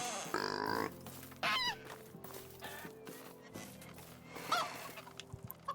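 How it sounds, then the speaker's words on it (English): Loud poultry squawks and honking calls burst out close by in several harsh, overlapping outbursts, with a steady low hum underneath. "y'all may not hear a word I'm saying over these damn chickens"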